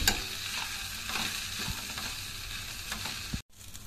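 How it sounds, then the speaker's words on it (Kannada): A spatula mixes flattened rice (avalakki) with its tempering in a pan for avalakki usuli, giving soft repeated scraping strokes over a light, steady sizzle at close range, with no talk, ending in a short dropout. "ಎಲ್ಲ ಒಗ್ಗರಣೆ ಜೊತೆ ಅವಲಕ್ಕಿನೂ ಮಿಕ್ಸ್ ಆಗಿ ಆಯಿತು."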